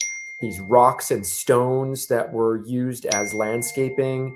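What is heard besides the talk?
mobile phone notification sounds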